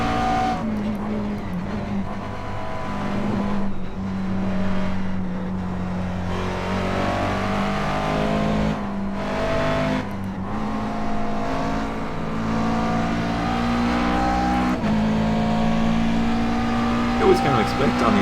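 Race car engine in iRacing at Watkins Glen, a Grand Am endurance car on a cold-tire out lap with a full fuel load, droning steadily with shifting revs and brief tire noise, under continuous commentary.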